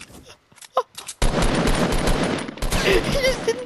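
Gunfire in Fortnite, a loud burst of rapid shots that erupts after a few scattered sounds and continues steadily, with brief voices mixed in.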